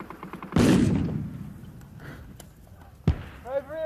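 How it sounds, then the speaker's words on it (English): Gunfire in a war drama set in no man's land, heard as two separate loud, sharp bursts a few seconds apart. Voices are heard between the shots. "Be careful, it's a machine gun fire."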